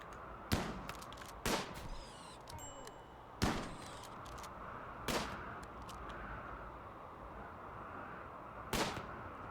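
Gunfire from colonists in the RimWorld video game: five sharp, separate shots spaced a second or more apart over a low, steady background, each with a short tail.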